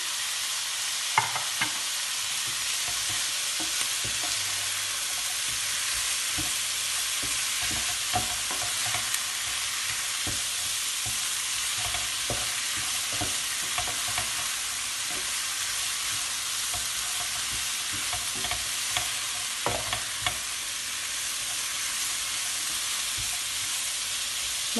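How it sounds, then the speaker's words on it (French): Bell peppers go into vegetables stir-frying for rice with chicken, and a steady sizzle and hiss fills the pan, broken by occasional light clicks and scrapes of stirring, close up and continuous with no talking. "je vais rajouter mes poivrons"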